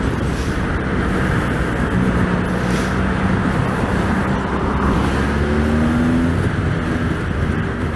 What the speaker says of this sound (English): This is why I hate riding on the freeway in the city.